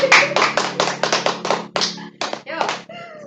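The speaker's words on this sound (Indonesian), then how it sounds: "Sebelumnya kita tepuk tangan dulu ya," A group claps hands together in a steady rhythm of about a dozen sharp, even beats at a school guidance orientation session, close and fairly loud, with faint voices under it toward the end.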